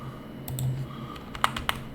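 Computer keyboard keys are pressed in a few scattered clicks, with a sharper cluster of taps near the end, close and fairly quiet against a low background hum.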